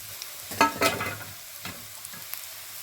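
Grated coconut roasting in a pan with fried onion for banana masala dosa, a soft steady sizzle broken by a few sharp scraping stirs of a spatula near the start and middle.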